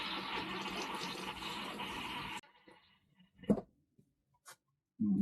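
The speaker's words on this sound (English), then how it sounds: "and it fills the tank." A Dometic 301 RV toilet filling its bowl with water: a steady rushing flow that stops abruptly partway through, followed by a few faint clicks and knocks and a short burst of sound at the end.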